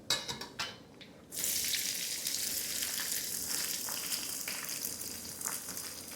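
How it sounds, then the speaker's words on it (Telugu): Dry red chilies drop into hot oil for a tempering. A few quick clinks come first, then a loud, close, steady sizzle and crackle that continues to the end. "ఎండుమిర్చి వేద్దాం"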